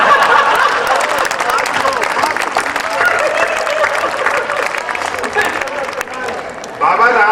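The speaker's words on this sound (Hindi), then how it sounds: "2-3 लोग ताली बजा रहे हैं, आप भी रहने दो।" Applause from an audience at a Hindi kavi sammelan poetry recital in Udaipur, loud scattered clapping that runs throughout, with a burst near the end.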